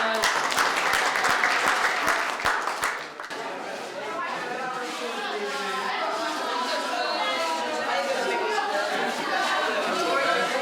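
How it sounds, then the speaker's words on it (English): A school crowd claps and cheers for performing musicians, a few sharp claps at first swelling into lively applause mixed with chatter that carries on steadily. "Round of applause for these guys."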